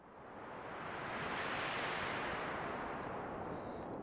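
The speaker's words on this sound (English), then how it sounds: "In this case, I'm using a synthetic wind patch." A synthetic wind patch made with a Minimoog's noise generator, oscillators unused, rises as a broad hiss that swells over the first second and holds a steady, whooshing roar with slight sweeping shifts in tone.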